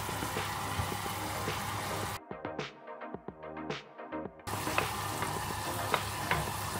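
Soy-seasoned sweet chilli sauce simmers and sizzles in a pan, a close, steady bubbling hiss with a short quieter stretch of soft crackles and pops in the middle.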